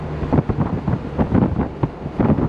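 Wind buffets an open-top PT Cruiser driving on a main road at about 55 mph, a steady roar with gusty low-frequency rumbles throughout and no talk.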